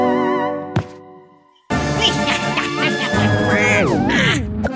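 Cartoon duck in a Pocoyo Halloween episode quacking in a long, expressive run of nasal, bending squawks after a brief earlier call, loud and close with cartoon music behind.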